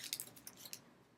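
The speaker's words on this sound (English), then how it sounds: "I'm wadding up paper." Sheets of paper crumpled by hand into a wad, giving quiet, irregular crinkling and crackling bursts close by, with no talking.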